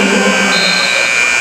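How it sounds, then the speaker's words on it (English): Buzzer sounding in a high school basketball gym in Kansas, a loud sustained electronic buzz filling the space for over a second, steady and continuous. "the buzzer cutting through the gym"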